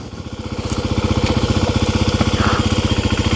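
A warmed-up 2026 Kawasaki KLX300 dirt bike idles close by, its single-cylinder engine thumping in a fast, even rhythm that holds loud and steady, with no voices over it.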